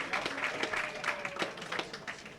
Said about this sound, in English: a well-deserved round of applause here from the crowd